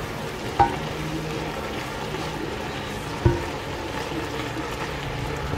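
Sausage and stew ingredients for Polish bigos frying in a pot, a steady close sizzle with two sharp knocks of a utensil against the pot.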